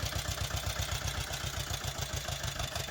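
A tractor engine chugging steadily at idle, its low rhythmic throb close by and unbroken, with no talking.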